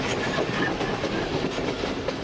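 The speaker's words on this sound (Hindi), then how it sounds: "ट्रेन हमारे इस वक्त जुम्मागोड़ रेलवे स्टेशन के पास से गुजर रही है" The Tezgam passenger train runs on rails, its economy carriage filled with a loud, constant rumble and rhythmic clatter of wheels heard from inside.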